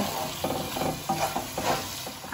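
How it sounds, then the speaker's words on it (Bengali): Green peas frying with spices in a pan of oil for a new-potato aloo dum, a steady close sizzle broken by repeated scraping stirs throughout. "মটরশুঁটিগুলো এর সাথে দিয়েও ভালো করে আমি কষিয়ে নেব।"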